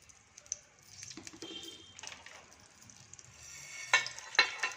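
Mustard seeds, chana dal and cumin splutter in hot oil with a soft sizzle, broken by a few sharp, scattered pops that grow a little livelier toward the end. The sound is quiet and close.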